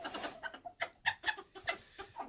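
Roosters clucking close by in short, repeated bursts, calling hens with a series of quick throaty calls in an uneven rhythm.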